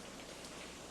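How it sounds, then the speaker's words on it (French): Steady rain falling, a faint, even hiss of drops on a surface with no breaks or voices, heard from a distance in a quiet outdoor setting. "Comme la pluie est là pour rester"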